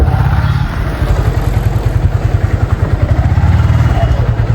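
Motorcycle moving through a narrow lane, its engine chugging in a close, loud, regular pulse with some clatter, while a voice talks over it.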